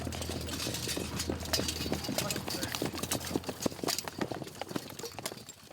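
Cavalry horses drilling at an 1860s frontier post, their hooves clip-clopping and thudding in quick uneven rhythm across open ground, loud and close with a low rumble at first.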